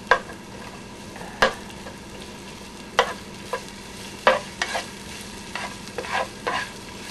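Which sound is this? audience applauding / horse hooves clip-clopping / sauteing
sauteing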